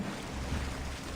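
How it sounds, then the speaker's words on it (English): Water in Assassin's Creed Odyssey: a steady, close wash of lapping, surf-like liquid under a breezy hiss, continuous and unbroken for about a second with no talking. "It sounds like water."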